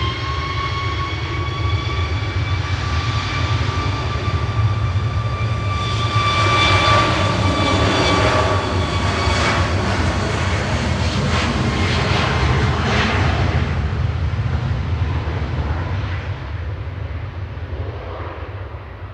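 A jet airliner departs Manchester Airport for Paphos, its sustained engine roar and high turbine whine loud and near, swelling mid-way and then easing off.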